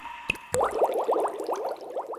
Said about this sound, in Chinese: 我们再收集了其他一些水滴一块把它放在一起组合一下